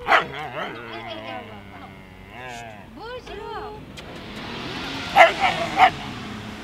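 A dog barks and yips in short sharp bursts near a city street outside a hotel at night, several loud barks clustered late, with people talking in French over and between them and traffic faintly behind.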